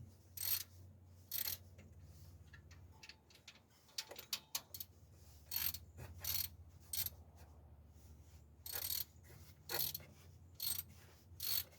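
Metallic clicks, ratchet-like ticks and short clunks in bursts while a serpentine belt is worked over the tensioner pulleys of a car engine, close and alone with a low steady hum beneath.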